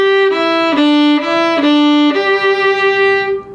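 Fiddle playing the melody of the tune The Woodcock, a steady bowed line of sustained notes with a few quick pitch changes, close and clear with no talking.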